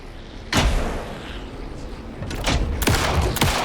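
Gunfire in the video game Alan Wake 2 during the final boss fight: several heavy, booming shots ring out amid dense background noise, the first alone and then a closer cluster of loud bursts near the end.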